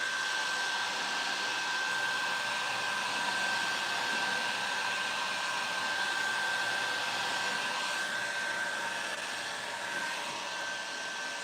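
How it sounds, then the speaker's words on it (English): A hair dryer blowing steadily on fresh paint over a thrifted piece of furniture, a loud continuous whirring hiss with a faint high whine that stays constant and close throughout, with no talking. "So I just give it a dry, especially if I'm in a hurry"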